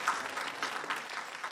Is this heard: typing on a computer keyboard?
no